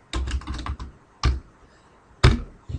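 Close, crisp keystrokes on a computer keyboard, first a quick run of taps, then pauses broken by single louder key presses.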